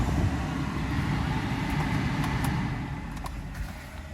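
A Mercedes S600 engine idles steadily just after a cold start with rebuilt throttle bodies, a low continuous rumble with a faint high whine and a few light clicks, fairly close and with no talking.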